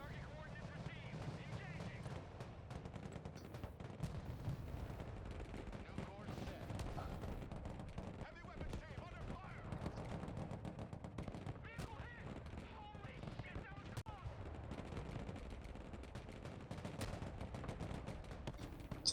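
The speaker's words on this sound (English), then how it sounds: "Taking fire, taking lots of fire." Dense video game gunfire in Broken Arrow during an airfield raid, a steady roar of overlapping shots, bursts and explosions that runs continuously at moderate level with no pauses.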